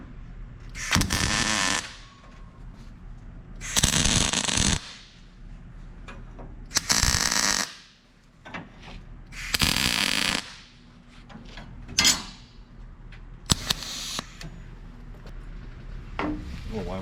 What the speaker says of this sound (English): And I'll tack weld this one in place.